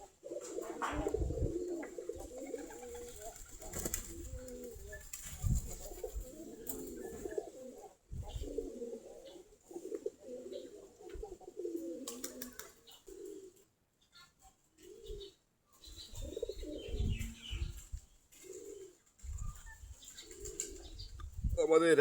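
Flock of native Giribaz pigeons, about 45 pairs, in a loft, cooing in repeated soft throaty bursts with pauses between, fairly close, with occasional wing flutters and faint background voices.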